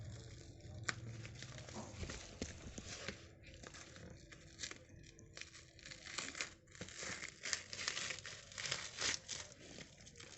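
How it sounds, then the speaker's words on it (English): Tape and a sealed plastic-wrapped package being torn open during an unboxing, with continuous close crinkling, ripping and rustling that rises and falls in irregular bursts, with no voices. "Let me just tear it."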